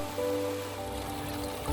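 A small waterfall sends up a steady rushing wash of flowing water, with no break for the full clip.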